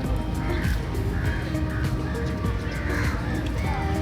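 Crows caw several times in a busy outdoor spot in Kochi, with repeated harsh calls rising above a dense rumble of traffic and crowd noise.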